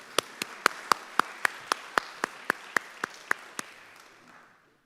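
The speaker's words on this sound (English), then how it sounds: "one more round of applause for our outgoing board members" At an annual meeting, a few hands clap in a sharp, evenly spaced rhythm, about a dozen distinct claps close by, under a light murmur before fading out.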